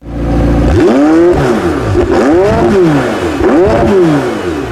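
A McLaren sports car exhaust revs hard several times in a row, each throttle blip rising and falling loudly and close by, with a deep burbling tone between revs.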